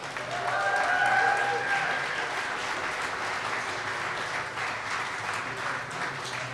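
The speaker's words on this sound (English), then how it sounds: "Another round of applause for Administrator Norris and Polk County for leading the way." An audience applauds at a water quality kickoff event in Polk County, Iowa, a steady roomful of clapping that peaks early and holds, with a faint voice speaking over it.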